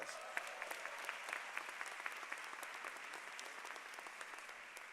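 A large audience at a university graduate commencement in a new campus facility applauds steadily, a dense even wash of clapping that stays fairly distant and soft throughout.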